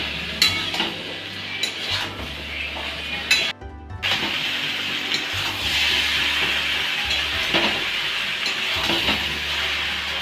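Vegetables coated in mustard paste stirred in a hot pan for a winter mixed-vegetable vegetarian dish, a steady sizzle with repeated scraping strokes and a brief pause midway, close and fairly loud, no talking.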